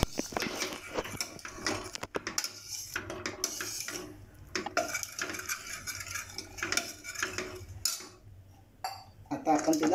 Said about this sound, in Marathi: ही बघा, अशी हिला एकदम घोटून घ्यायची.